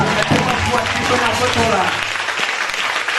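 A church congregation claps loudly for the Lord, a dense continuous round of applause with voices and singing tones blended underneath that fades slightly toward the end.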